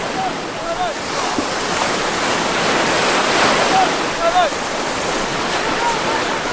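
Waves washing onto a Caspian Sea beach, a steady broadband roar of surf that swells and eases in soft surges, fairly loud and close, with no voices.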